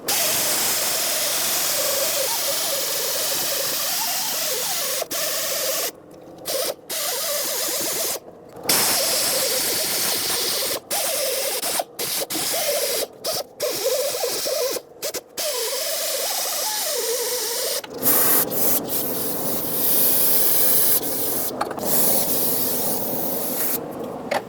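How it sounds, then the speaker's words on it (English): A wire wheel scrubs corrosion off the steering knuckle of a 2012-2018 Nissan Altima, giving a loud, continuous abrasive hiss with brief dropouts when it lifts off the metal. "take a wire wheel, and do a lot of cleaning here."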